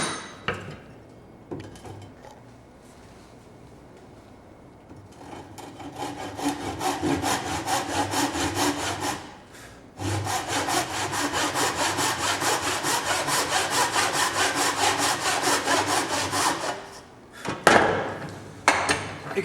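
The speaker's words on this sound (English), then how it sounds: "I'll cut to at least halfway across our timber and to at least 2/3 of the way down our timber." Hand saw cutting timber for a dovetail halving joint, close rasping back-and-forth strokes that start softly, then run loud and even in two long bursts with a short pause between.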